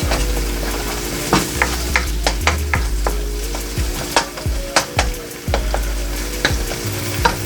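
Onions frying in a hot pan for Filipino Bicol Express, a steady loud sizzle with repeated sharp scrapes and clacks of stirring spread throughout, no voices.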